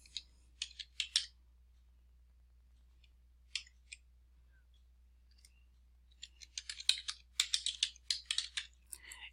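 Quick bursts of keystrokes on a computer keyboard as login credentials are entered, a short run at first, a pause with a few taps, then a longer dense flurry, close and quiet in a silent room.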